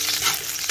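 Onions sautéing in a pan for a Filipino kare-kare, a loud, steady hiss of frying with stirring, continuous through the short moment with no voices.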